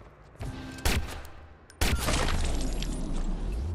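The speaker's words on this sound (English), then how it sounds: "Look out! He's shooting!" Gunfire in the Watch Dogs video game: a burst of sharp shots followed by a loud, sustained volley of rapid fire that runs to the end without any talk.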